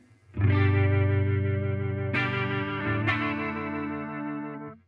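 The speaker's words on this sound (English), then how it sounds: "this has got kind of like a rotary speaker effect, like a uni vibe sort of setting, the vibe" A single sustained electric guitar chord rings out through a 50-watt practice amp's uni-vibe setting with a swirling, pulsing rotary-speaker wobble, and two fresh strums accent the chord partway through.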